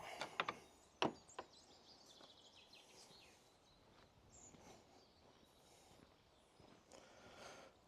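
A locked church door is tried: a few sharp knocks and a rattling clunk at the start, then faint shuffling and rustle in a quiet setting.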